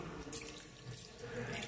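About a quarter cup of water is poured into a cooking pot while making chicken thokku. It gives a soft, continuous splashing trickle, faint and steady, with no voices.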